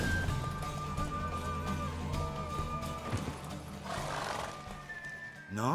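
Horse in The Witcher 3 video game neighing and whinnying loudly alongside clip-clopping hooves during a race, with a continuous musical and ambient game soundtrack underneath.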